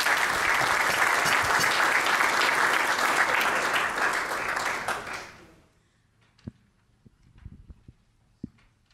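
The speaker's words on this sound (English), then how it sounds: "I ask you to give a warm heart, a hand of applause to Dr. Gustav Clausen" An audience at a 2018 restitution conference panel gives a speaker warm applause, a dense, steady clatter of clapping that fades out after about five seconds, leaving a quiet room with a few isolated knocks.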